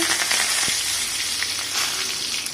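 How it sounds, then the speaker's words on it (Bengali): Dried red chillies and curry leaves dropped into hot oil for sambar dal, a loud, dense crackling sizzle that holds steady and close with small pops, no voices. "তো তেল গরম হয়ে গেছে, আমি শুকনো লঙ্কা দুটো দিয়ে দিচ্ছি, কারি পাতা দিয়ে দিচ্ছি"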